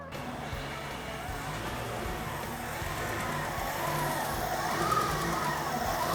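An off-road vehicle's engine runs steadily at idle after being started, a continuous low rumble close by that rises slightly in intensity partway through.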